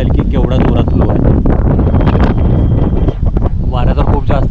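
Strong wind beside the flooded Jayanti stream and Panchganga river in Kolhapur roars and buffets the microphone in loud, close, continuous gusts.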